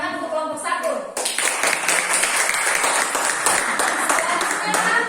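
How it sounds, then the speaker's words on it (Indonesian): Classroom audience applauding a student group's presentation, a dense burst of clapping that starts abruptly after brief talk and continues steadily and loudly to the end. "kita berikan tepuk tangan untuk kelompok 1"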